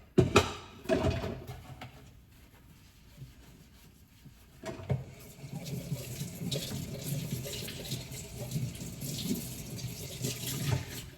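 Tap water running into a sink while bananas are washed by hand, a soft steady splash and trickle with a few clunks early on, fairly quiet and close.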